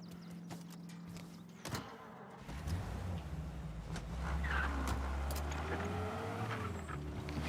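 A car engine in Mafia Definitive Edition idles low and then swells as it revs up, running steadily and fairly quietly with a few mechanical clicks and thumps at the start.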